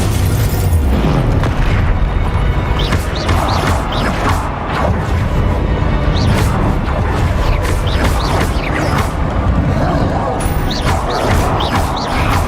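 Confringo and Bombarda spell blasts from the game Hogwarts Legacy, dense and continuous, with repeated booming impacts and crackling bursts throughout, loud and near, while a voice shouts spell names over the din.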